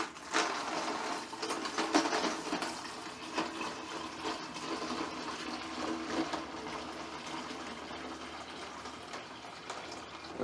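Half a gallon of hot water pours steadily into a container for cleaning cartridge brass, a continuous close splashing and filling sound with no talking.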